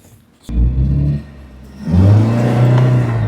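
A used car's engine idles quietly, then rises into a loud revving rumble as the car pulls away, easing back before climbing again into a sustained drone while driving.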